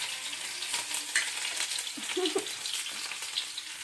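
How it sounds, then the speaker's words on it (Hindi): Rice tempering and frying in a hot pan at home, a steady close sizzle with scattered stirring scrapes and crackles running throughout, with a brief muffled voice in the background. "चावल छौंक रहे है तो रिवर चावल छौंक रहे हैं।"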